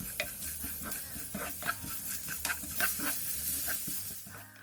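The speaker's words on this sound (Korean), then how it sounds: "소금 간을 해주고 중약불에서 재료들의 숨이 죽을 때까지 볶아주세요" Salted vegetables stir-fry in a pan over medium-low heat, wilting as they cook, with a soft continuous sizzle broken by repeated scraping and tossing strokes of a utensil, close and fairly quiet.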